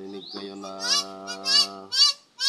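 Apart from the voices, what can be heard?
pet bird squawking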